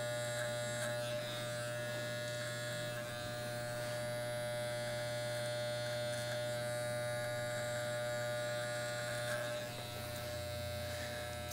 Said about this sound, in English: We're going to lightly touch the neck with the clipper and get a nice straight line, and we're going to shave to it.